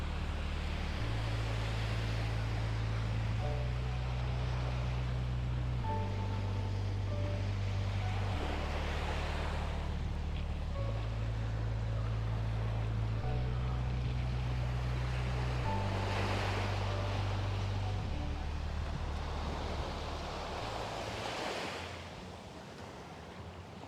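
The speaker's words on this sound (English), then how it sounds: "let's get closer to the beach now" Ocean surf rolls steadily onto an Aruba resort beach on a breezy day, a continuous loud wash with swells surging every few seconds, wind buffeting the microphone, with a low tonal hum underneath; no one speaks.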